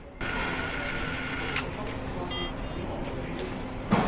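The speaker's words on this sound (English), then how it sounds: "Right now you are watching how dual overhead camshafts are assembled." Factory machinery assembling dual overhead camshafts at Mercedes' US plant that builds the 2026 GLC: a steady, close mechanical hum and whir with faint tonal whines and a couple of brief sharp clicks.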